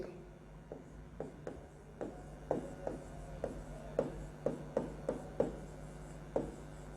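Chalk tapping and scraping on a board during a chemistry lecture on the gaseous state, a series of irregular close knocks and short strokes with no talk over them.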